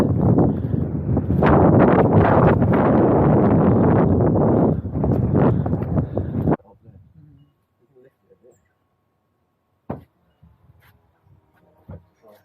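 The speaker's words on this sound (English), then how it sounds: "Here comes the wind again." Strong gusting wind buffets the microphone at a beach for about six and a half seconds, loud and broadband, then drops away to near quiet with a few faint knocks and rustles.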